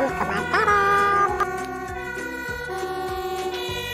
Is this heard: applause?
no